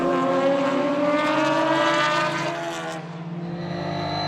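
Race cars scream past at Spa-Francorchamps near Les Combes, a loud sustained engine wail with rising harmonics that fades as the cars pull away.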